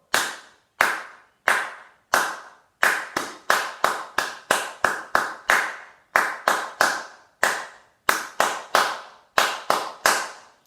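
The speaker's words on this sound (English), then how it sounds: "you just carry on and clap through each line" Hands clap out a rhythm, sharp and close, in uneven groups of quick claps separated by short gaps, with each clap ringing briefly and nothing else behind them.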